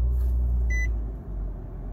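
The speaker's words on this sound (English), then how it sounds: "I'm just gonna hold the brake, press the button." Push-button engine start on a 2019 Nissan Kicks S: a short electronic chime-like beep over a low, quiet engine rumble that settles into a soft steady idle inside the cabin.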